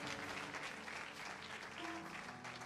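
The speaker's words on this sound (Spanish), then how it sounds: "Give an applause to yourselves." Church congregation applauding during a Spanish-language service, a steady burst of clapping filling the room for a few seconds, fairly faint overall.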